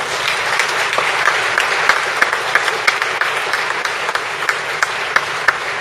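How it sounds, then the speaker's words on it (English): Applause from a ceremony audience after a dance group's performance, a dense, steady wash of clapping with a few sharper individual claps standing out, loud and unbroken throughout. "please clap your hands now"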